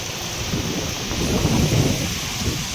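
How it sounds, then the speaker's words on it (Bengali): Storm with heavy rain and wind during Cyclone Remal in the Sundarbans: a loud, steady roar of rain and gusting wind, with wind buffeting the microphone and rumbling swells, unbroken and with no voices. "প্রচুর বৃষ্টি হচ্ছে আর সঙ্গে ঝড়ও হচ্ছে"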